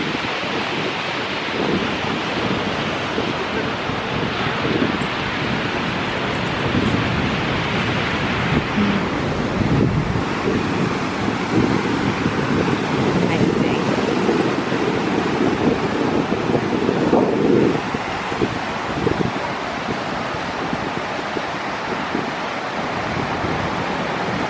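Ocean surf rolls in continuously at a Barbados beach, with heavy wind buffeting the microphone; loud, dense roaring wash with no talking.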